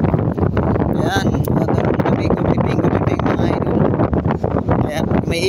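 Strong wind roars and buffets the microphone steadily throughout, with people talking over the blustery noise.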